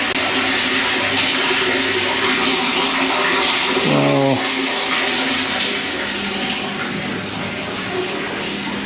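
Strong, steady rush of water gushing from a pipe onto a wet floor, loud and continuous throughout, with a brief higher-pitched squeak partway through.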